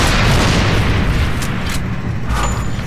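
A frag grenade goes off in the Gears of War video game, one loud, deep, booming blast that fills the short moment and decays with a rumbling tail, with no voices over it.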